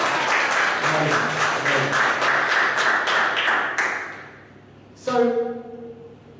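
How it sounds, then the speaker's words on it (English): An audience gives a round of applause at a talk, a full dense burst of many hands clapping that fades out after about four seconds, followed by a short ringing tone. "give her a round of applause"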